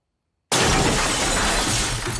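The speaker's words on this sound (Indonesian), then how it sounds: "tiba-tiba mendengar barang-barang yang pecah" Objects breaking and shattering as a horror film sound effect, a sudden loud crash of glass bursting in after silence and spilling into a sustained clattering of shards with no voices.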